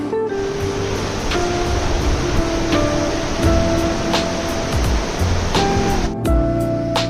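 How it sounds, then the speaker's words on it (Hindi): Steady, loud rushing roar of a waterfall beside Kalpeshwar Mahadev temple in Chamoli, Uttarakhand, a continuous broadband wash of falling water with no talk over it. "ये वाटरफॉल है, काफ़ी सुंदर।"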